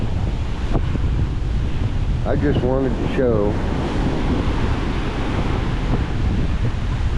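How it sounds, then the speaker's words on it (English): Strong wind buffets the microphone over steady surf on a beach in Boracay, a loud continuous roar of waves and gusts with a brief voice speaking partway through. "Definitely taking off in a storm. Very, very windy."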